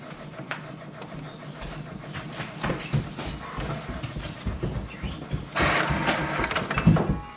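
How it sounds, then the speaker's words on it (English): An HP Envy 6000e printer feeds and prints an envelope nearby, with whirring and clunking mechanical passes that build to a louder rolling run toward the end. "So this way we can print on the envelope."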